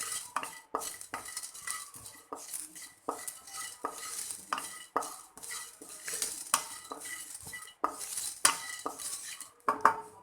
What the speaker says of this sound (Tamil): இப்போது இதோட இது நல்லா கொஞ்சம் எல்லாத்துலேயும் சூடு படுற அளவுக்கு நல்லா வதக்கிக்கோங்க.